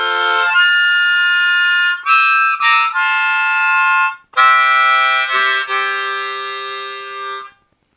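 Harmonica playing the opening of a song, loud and close, with sustained blown chords and slides broken by short gaps, ending after about seven and a half seconds.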